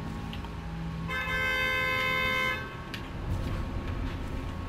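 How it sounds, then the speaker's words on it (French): A car horn honks in the video game Dishonored, one long steady blast in the middle with a shorter toot before it, over rumbling in-game background noise. "Arrête avec ton klaxon"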